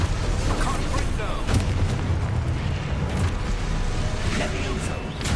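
Hogwarts Legacy video game spell combat with a Confringo blasting curse: booming explosive bursts and pops amid a busy, continuous battle din, with a voice calling out spells over the top.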